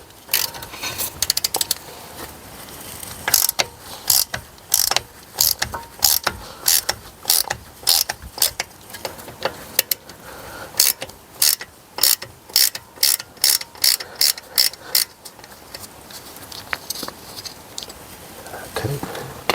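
Ratchet wrench loosening the brake disc retaining bolt on a 2017 Mercedes E220, heard as bursts of rapid metallic clicking in a steady back-and-forth rhythm, close and fairly loud, with faint workshop noise between strokes.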